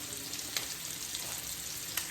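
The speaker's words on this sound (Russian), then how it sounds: "Я люблю, когда специи жарятся." Provence herbs and dried garlic frying in a pan, giving a steady, faint sizzle with a few small crackles, close by and with no voices.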